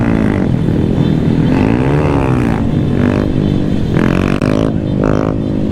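A Honda Grom motorcycle, a 2019 model out on a downtown group ride, revs hard and continuously for several seconds, its buzzing engine note rising and falling in close, loud surges.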